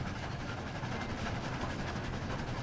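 Continuous rumbling train engine noise from a Roblox train-driving game, a rough, dense drone with a faint rhythmic rattle, loud and unbroken throughout.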